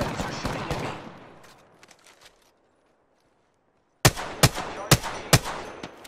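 Enemy gunfire in Apex Legends crackles in rapid bursts, first a flurry of shots fading out, then silence, then a loud, close series of sharp, regularly spaced shots.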